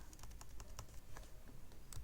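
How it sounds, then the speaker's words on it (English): Quick, light keystrokes tap on a computer keyboard in a fast, irregular rhythm, soft and close with faint background hiss. "I can directly type"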